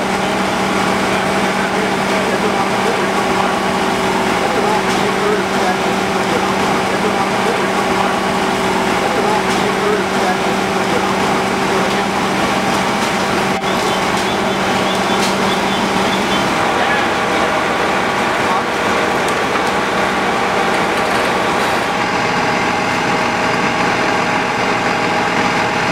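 A supervac ventilation fan's gasoline engine runs at a house fire scene, a loud steady drone with a constant hum throughout, while people talk over it.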